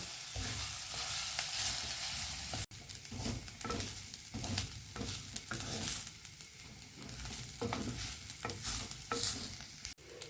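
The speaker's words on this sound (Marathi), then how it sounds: "आणि आपण आलं लसूण देखील ह्याच्यात टाकून घेऊया आणि ह्याला छान खरपूस भाजून घेऊया" Ginger, garlic, onion and coconut roasting together in a pan with garam masala, giving a steady low sizzle broken by scraping stir strokes, moderately close, with no voices.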